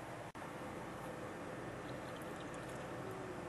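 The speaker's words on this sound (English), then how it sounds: "the tube will hold it onto the bottom and the beer is filling from the bottom up" Beer fills a container from the bottom up through a siphon tube during homebrewing, a faint, steady liquid trickle and gurgle close by with a brief dropout near the start.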